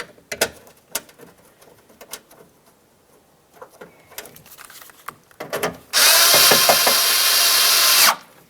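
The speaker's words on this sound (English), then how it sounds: "We'll get our mounting screw in there." A power drill drives a mounting screw into the exterior front door handle of a 2006–2010 Ford Explorer, a loud steady whir lasting about two seconds, preceded by scattered clicks and handling of parts.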